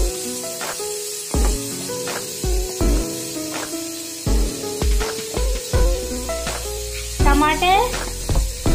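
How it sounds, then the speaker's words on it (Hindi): Chicken frying in a pan for a green hareali chicken curry, giving loud sizzling hisses in repeated bursts, with stirring in between and talk over the top. "हम इसे थोड़ा भून लेंगे।"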